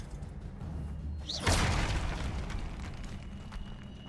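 A Confringo blasting spell in Hogwarts Legacy erupts in a single sharp explosion after a brief rising whoosh, a loud burst whose rumble then fades into steady low game ambience.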